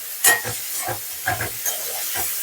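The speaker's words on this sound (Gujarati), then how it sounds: "હવે આપણે હલાવી દઈશું।" Boiled chickpeas for ghughri are stirred and sautéed in a pan with lemon juice, soft scraping stir strokes over a faint steady sizzle, close and quiet, no talking.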